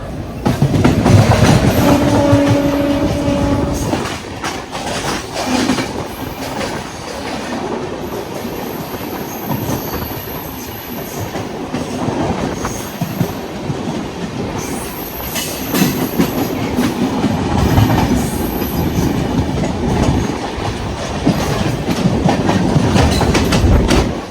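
The Grand Trunk Express passenger train rumbles steadily along the rails with rhythmic clickety-clack from the wheels and occasional high metallic squeals, loud and close throughout.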